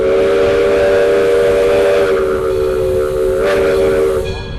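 A loud, sustained steam train whistle at Roaring Camp in Felton, California blows steadily for several seconds with a harmonic, slightly wavering tone, then tapers off near the end.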